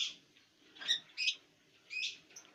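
A caged female bird, mate of a speckled blorok, gives three or four short, high chirps, spaced apart and fairly faint, in an otherwise quiet space.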